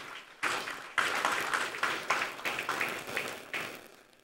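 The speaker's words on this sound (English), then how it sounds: "I want us to give a resounding round of applause to the board and management of NDDC for this initiative." An audience at the launch of a Niger Delta youth internship scheme claps in a burst of applause, sharp separate claps rising and falling in quick uneven waves at moderate distance, with no talking over it.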